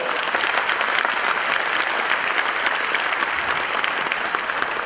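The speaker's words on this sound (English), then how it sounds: "Can you please have a big round of applause for all of us here today?" An audience at a bank's platinum jubilee celebration applauds in a loud, continuous round of dense clapping that holds steady throughout with no break.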